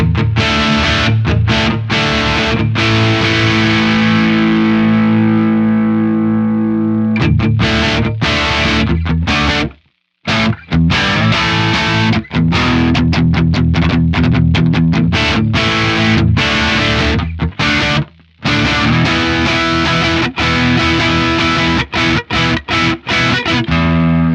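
A heavily overdriven electric guitar through an Axe-Fx III Buddah DuoMaster amp model with a T808 input boost plays loud, sustained chords and chugging riffs, with a couple of brief pauses, thick and saturated throughout.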